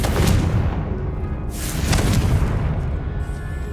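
The Confringo fire spell explodes in Hogwarts Legacy, a loud, close series of booming blasts with rumbling bursts at the start and again around the middle.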